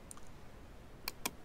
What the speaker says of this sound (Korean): 키보드의 대괄호, 왼쪽, 오른쪽 대괄호 활용하셔서 범위의 크기는 지정을 해주시면 되겠습니다